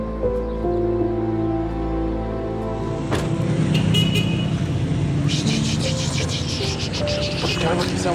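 Road traffic passing close by, a steady engine and tire rumble with a brief horn toot partway through and a high insect-like whine later, no clear talk.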